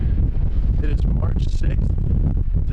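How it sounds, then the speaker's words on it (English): Strong wind on a ferry buffeting the microphone with a constant low roar, while a voice talks over it. "It's windy."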